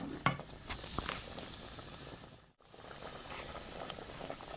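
A raw-mango sweet-and-sour chutney cooks in a pan with a quiet, steady hiss and soft sizzle, occasionally broken by a faint clink.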